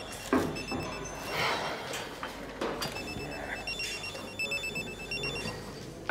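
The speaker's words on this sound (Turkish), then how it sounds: "Telefonum çalıyor." A telephone rings in a home scene from a drama series, its electronic trill repeating in short bursts while people move and talk briefly around it.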